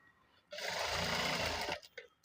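Sewing machine runs in one steady burst of just over a second, stitching the double-folded hem of a churidar top sleeve, a close, fast mechanical whir that stops abruptly, followed by a few small handling clicks.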